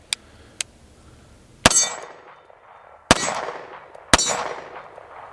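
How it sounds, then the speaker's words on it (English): A Girsan Witness 2311 pistol magazine drops out with sharp metallic clangs, two light ticks followed by three loud ringing impacts spaced over a few seconds, close and alone. "Okay, that is a factory mag. Let's drop it out, go in with that Springfield."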